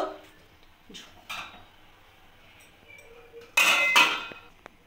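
A metal lid is set over a pot of bottle gourd kofta curry cooking on a high gas flame, giving a few sharp clanks and clinks, the loudest pair near the end, with faint kitchen noise between.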